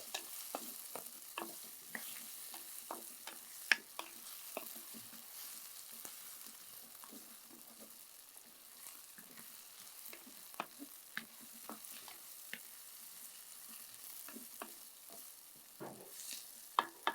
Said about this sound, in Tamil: இதை ஒரு டூ டு த்ரீ மினிட்ஸ் லைட்டாக அப்படியே வதக்கி எடுத்துக்கலாம்